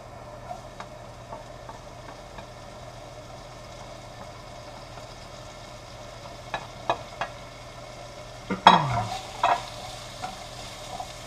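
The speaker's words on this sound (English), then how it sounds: "Then we'll just dump these potatoes in." Sliced potatoes hit a warm frying pan and set off a sudden loud sizzle and clatter near the end, after a quiet low hum with a few soft clicks, and no talking.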